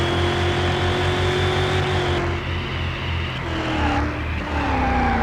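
Car sliding in the video game Car Mechanic Simulator 2021, a continuous engine drone with tires squealing as the car skids, steady and fairly loud throughout.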